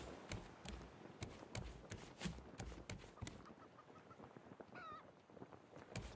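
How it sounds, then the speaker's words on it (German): Seagulls cry in the ocean survival video game Raft, faint squawking and honking calls repeated amid clicking game sounds, with a rising call near the end. "doch gerade Möwe gehört"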